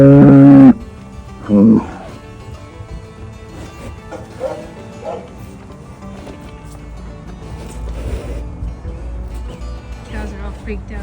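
Cattle on a farm moo loudly and close at the start, with a second shorter moo soon after, then quieter farm background and people talking.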